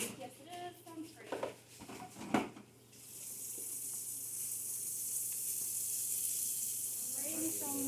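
Water runs steadily from a tap into a wash basin as a bed bath for perineal care is readied, a continuous hissing stream that starts a few seconds in and follows brief quiet talk.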